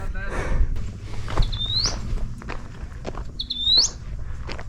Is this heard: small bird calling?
yes